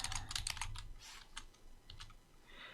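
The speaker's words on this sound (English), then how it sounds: "I'm using the arrow key on my keyboard to move to the next cell" Rapid typing on a computer keyboard with irregular clusters of crisp clicks and occasional single taps, probably including arrow-key presses, close and clear with no talk.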